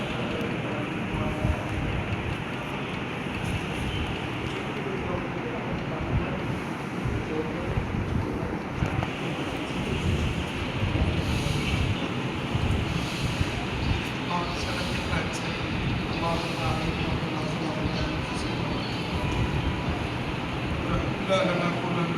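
Heavy rain pours down over an outdoor religious gathering as a dense, constant hiss and roar with wind-like buffeting on the microphone, while a voice speaks through it.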